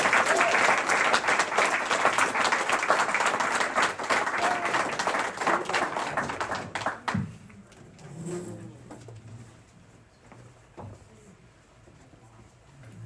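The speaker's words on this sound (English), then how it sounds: "let's give our panelists a big round of applause" A lecture audience gives the panelists a round of applause. Dense, loud clapping fills the first seven seconds, then thins to scattered claps and quiet room noise.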